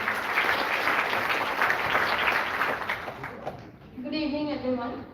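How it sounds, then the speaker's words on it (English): An audience at an achievers' meet applauds a speaker, a few seconds of dense clapping that fades out, then a voice begins speaking. "Huge round of applause for her, please."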